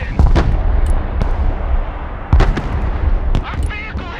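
Heavy artillery booms in the Broken Arrow war game, several loud, deep blasts spaced a second or so apart, with sharper cracks and rumbling battlefield noise filling the gaps.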